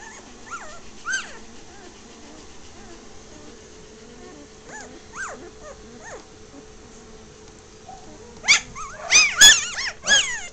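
A dog barks during a game of fetch, starting with a few faint, scattered yips and building to a burst of loud, close barks at the end over a steady buzzing hum.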